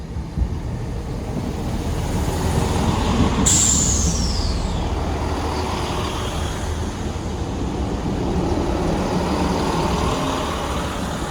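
Great Western Railway class 166 train 166217 arriving at a station, with a sharp hissing air-brake release that fades over a couple of seconds, set against a steady rumble and wind noise.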